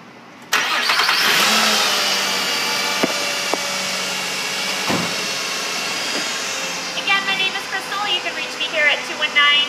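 Engine of a 2005 Nissan Quest minivan starting at a used car lot, a sudden loud crank catching into a steady idle that hums on, with a voice talking over it in the later part.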